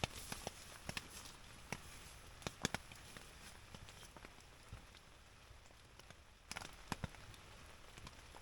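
Rain pattering on a tent during a wet camping trip, scattered close drops and taps over a steady soft hiss, fairly faint with a few sharper hits.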